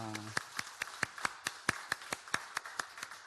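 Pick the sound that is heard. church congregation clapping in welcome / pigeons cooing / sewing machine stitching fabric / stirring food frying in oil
church congregation clapping in welcome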